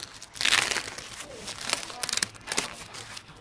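Protective plastic wrap being peeled off a Giant FCR3300 touring bicycle, giving close, bursty crinkles and tearing rustles in several short bouts with brief pauses between.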